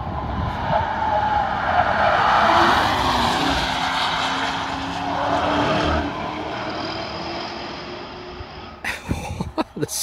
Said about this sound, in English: The sound of the turbos is ridiculous.